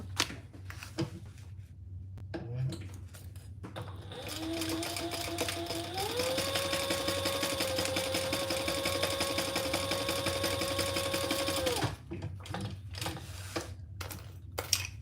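A sewing machine stitches a clutch wallet in a long steady run of fast rhythmic whirring, preceded and followed by fabric handling and small clicks, fairly quiet with no speech.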